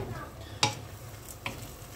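Beef and broccoli stirred in a hot pan, a steady low sizzle with two distinct scraping clanks of the utensil against the pan, close and alone.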